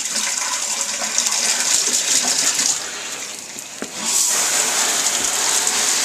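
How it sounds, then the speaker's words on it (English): A shower sprays water steadily onto a Maxpedition Vulture 2 backpack stuffed with paper towel rolls, a loud continuous hiss that briefly softens and thins before surging back to full strength. "So let's start the shower."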